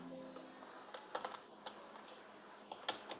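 Quick, light keystrokes on a computer keyboard in a quiet room, a short irregular burst of clicks close by with no voices.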